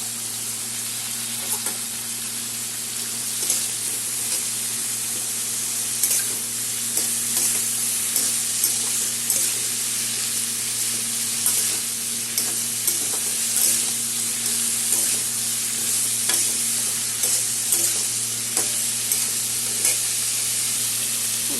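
Teasel gourd (kakrol) seasoned with turmeric and salt fries steadily in a pan, a continuous close sizzle with soft scrapes of stirring recurring every second or so throughout.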